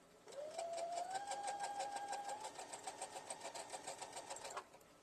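A sewing machine runs a quick, even burst of stitches on a quilted Easter basket, its motor whirring under a rapid regular needle clatter for about four seconds before stopping, close and clear.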